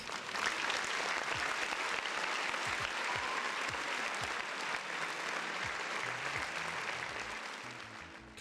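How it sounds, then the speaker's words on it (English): Steady, dense applause from a crowd, clapping continuously for several seconds before tapering off slightly at the end. "Round of applause for the folks in the chat, man."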